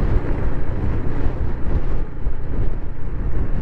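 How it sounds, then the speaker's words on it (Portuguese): Strong, cold wind blowing hard across a hilltop near the village of Independência on Bolivia's Ruta 25, a loud, steady rush of buffeting wind noise that fills the whole clip with no talk. "E tá ventando bastante aqui."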